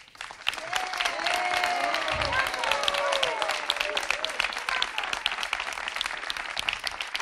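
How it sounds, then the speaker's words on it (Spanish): Sustained applause from an audience in Agüimes, in southeast Gran Canaria, a dense steady patter of clapping lasting the full stretch, with faint melodic tones threading underneath. "y con este aplauso"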